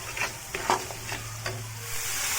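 Chicken with curry leaves fries in a pan, making a soft continuous sizzle under several scraping stirs of a spoon against the metal, quiet and close.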